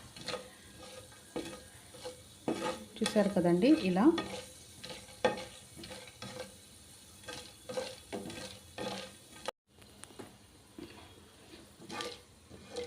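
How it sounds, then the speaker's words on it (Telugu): Tempering spices fry in hot oil for gongura pickle, with a soft sizzle and scraping stirs from a spoon in the pan, quiet and close, and someone speaks briefly over it. "ఇలా పోపు అంతా కూడా చక్కగా ఫ్రై అవుతుంది"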